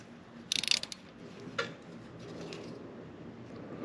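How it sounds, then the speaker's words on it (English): A nut being tightened with a ratchet while a timing belt is installed on a VW Golf MK4: a quick burst of close ratcheting clicks, then a single louder clank over a quiet garage background. "So now the trick is see if I can tighten that nut down enough for it to stay."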